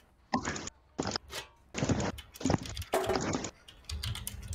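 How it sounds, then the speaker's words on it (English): Rapid bursts of typing on a computer keyboard, clustered clicks and clacks in uneven runs with short pauses, close and fairly clear, heard during an online gaming session. "we can hear you typing a whole bunch."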